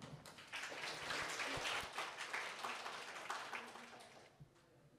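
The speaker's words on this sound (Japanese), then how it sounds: "それでは安倍さんを拍手でお迎えください。" Audience applause welcoming a presenter onto the stage at a PyCon JP 2022 conference talk, a dense wash of clapping that swells quickly, holds steady for several seconds, then thins and fades toward the end.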